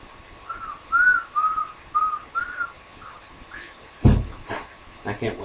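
Short whistled tones repeat across the first few seconds, thin and moderately loud, followed by scattered noises and brief bursts, with no clear talking over the melody.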